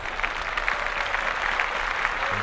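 Applause from a podcast audience, a dense, steady wash of clapping hands that holds at an even level throughout with no voices over it.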